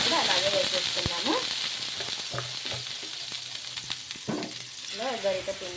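A peanut and moong dal dosa fries on a hot pan with a clear, close sizzle and hiss. Scraping and stirring noises come through, and faint voice-like sounds are heard now and then.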